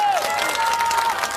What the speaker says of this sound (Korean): 리액션 박수 금지.